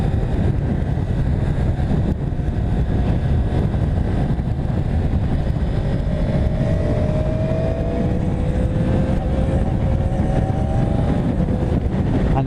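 A 2015 Yamaha R1 sport motorcycle with its standard exhaust, riding at speed: a continuous loud engine drone under heavy wind rush, with a faint rising tone as the revs climb, and no talk.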